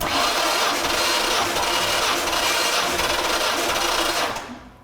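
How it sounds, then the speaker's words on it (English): A 1957 Ford Thunderbird engine cranks over on the starter during a compression test, a loud, steady rhythmic churning of several rotations up close that cuts off abruptly at the end without firing. "I'm going to go to the starter solenoid right here. I'm going to turn it over at least 5 times"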